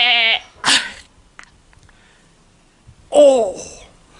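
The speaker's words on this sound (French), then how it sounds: "Qu'est-ce qu'il fait, le petit mouton?" Two separate bleats of a little sheep from a children's cartoon, loud and close, with a soft click and near silence between them.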